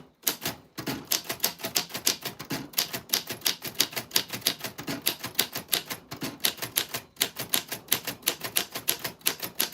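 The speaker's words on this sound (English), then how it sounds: "This typewriter is from 1949" Rapid, steady keystrokes on a 1949 manual typewriter, close up and crisp, with brief pauses between bursts of typing and no voices.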